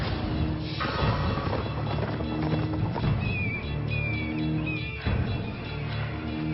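A horse pushes through thick bush, hooves clopping irregularly close by amid rustling and snapping brush, with faint voices in the background.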